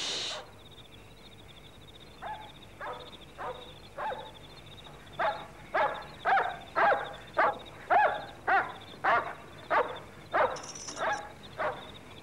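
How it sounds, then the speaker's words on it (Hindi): Dogs barking at night in a stage play, a run of about a dozen evenly spaced barks that start softer and grow louder and nearer, sounding alone over a quiet background. "कुत्ते भौंक रहे हैं, जरूर कोई पिछले दरवाजे के सामने से गुजरा होगा।"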